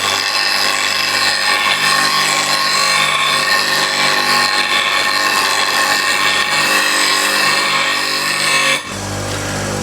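Steel scraper's heel pressed against a coarse bench grinding wheel, a loud continuous whine and rasp of metal removal holding steady for several seconds before the contact stops and the motor hum drops.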